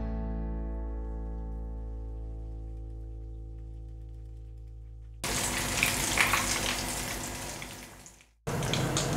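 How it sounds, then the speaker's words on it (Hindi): Pieces of mutton fry in a pan for a creamy spicy mutton boti. A steady, dense sizzle starts midway after a quieter tonal stretch, then briefly cuts out and resumes. "और अब मैं इसी तरह सारा मटन फ्राई कर लूँगी।"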